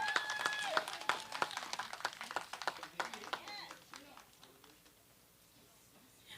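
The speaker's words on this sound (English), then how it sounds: "Let's give our teams a round of applause." Scattered audience clapping for student teams at a secondary-school STEM challenge, a sparse round of individual claps that thins out and fades within a few seconds, with voices murmuring underneath.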